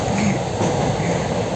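Passenger train on the Bidar Express running through the night, a steady, fairly loud rumble of wheels and carriage noise carrying on evenly with no voices.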